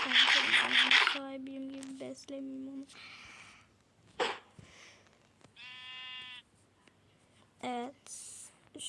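A few short sheep bleats from Minecraft ring out, with brief quiet gaps and a voice speaking in between.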